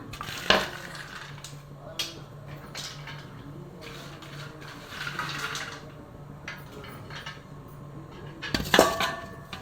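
Coconut sweet mixture is stirred in a pan, with a steady scraping and clinking of the utensil against the metal and a few louder knocks near the start and the end.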